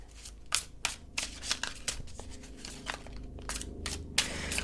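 Tarot cards are shuffled close up, a run of quick riffling bursts and papery flicks coming in uneven clusters, with soft handling noises between them and no talk.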